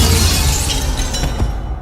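A glass vase smashing, used as a horror-story sound effect: a loud, sustained burst of shattering glass lasting nearly two seconds, with dense crackling fragments and a sharp crash near the end, no voices.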